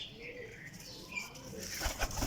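Kasuri pigeons flap their wings near a rooftop loft, a brief flurry of fluttering wingbeats building into louder, quick clapping bursts near the end.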